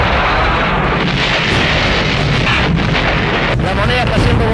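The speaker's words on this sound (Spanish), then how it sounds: "La Moneda está siendo bombardeada, los tanques están disparando con sus bombas" Bombardment of La Moneda palace with tanks firing, heard as a loud, continuous roar of rumbling blasts and wind-like noise with sharp cracks throughout, dense and distant-sounding.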